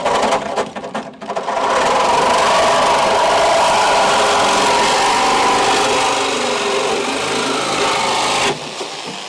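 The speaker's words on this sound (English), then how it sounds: "More loud noises from the angle, or not the angle grinder, from the reciprocating saw" A reciprocating saw cuts through metal on a Crew Cab Charger car build, a loud, steady rasping buzz that runs almost unbroken for about eight seconds before stopping abruptly.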